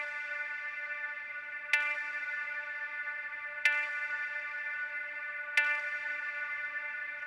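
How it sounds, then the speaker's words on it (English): Three sharp hits ring out at even intervals, each leaving a long, shimmering reverb tail that barely decays before the next strike. "This is a very long reverb, so you really have to pull it back."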